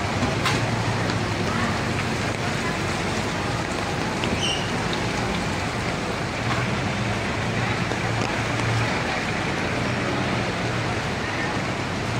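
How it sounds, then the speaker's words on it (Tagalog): Heavy rain pours steadily during a downpour while goods are loaded for delivery in Silang, Cavite, a dense, constant hiss of drops close by that holds throughout without pause. "lumalakas yung ulan"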